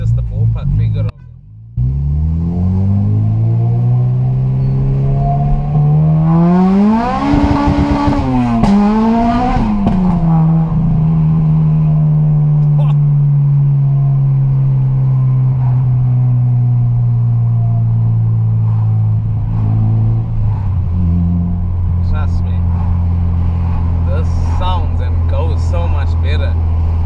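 A Honda Civic EP3 Type R is driven, its engine droning steadily from inside the cabin and rising into a revving climb before settling back to a cruising hum, with a voice speaking over it.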